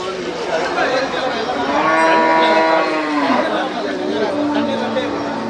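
A cow gives a long, loud moo that rises and falls at Melapalayam cattle market, with a crowd chattering and people talking throughout.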